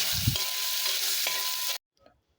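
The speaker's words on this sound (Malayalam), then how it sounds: "ഈ ഇഞ്ചി നമുക്ക് നന്നായിട്ടൊന്ന് ഇളക്കി കൊടുക്കാം" Chopped ginger sizzles loudly in a hot pan while being stirred, a steady broadband frying hiss with a few scraping strokes, then cutting off abruptly into near silence.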